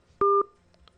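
After a phone call drops, a telephone gives off one short, clear two-tone beep, close and loud, followed by faint quieter blips.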